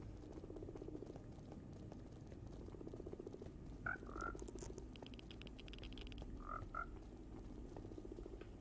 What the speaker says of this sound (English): Look at these adorable frogs.